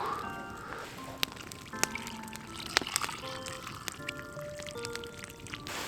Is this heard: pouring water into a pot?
yes